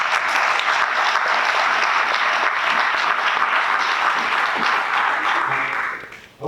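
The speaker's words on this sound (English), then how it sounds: "let's begin by giving them a big round of applause" A crowd gives a long round of applause at a suicide-prevention campaign launch in London, a dense, even wash of clapping that holds steady before cutting off near the end.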